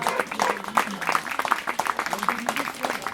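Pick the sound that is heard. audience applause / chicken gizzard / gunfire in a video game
audience applause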